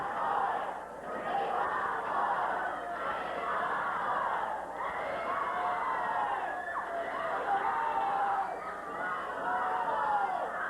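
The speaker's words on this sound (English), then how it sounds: "Not a sellout crowd tonight, but as you can tell, a noisy one" A noisy arena crowd at a 1981 Portland professional wrestling match keeps up a steady roar of shouts, cheers and yelling throughout, with no break.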